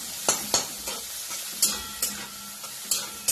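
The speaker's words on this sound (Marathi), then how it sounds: "आणि आपल्या याच्यामध्ये जे आपण बारीक करून घेतलेली मिरची आहे ना ती घालायची" Finely ground green chilies fry in a pan under a soft, constant sizzle, with a utensil scraping and tapping in irregular strokes close by and no talking.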